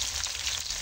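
Lionfish pieces frying in hot oil give a dense, steady crackling sizzle, close and continuous for a brief moment, with no one speaking.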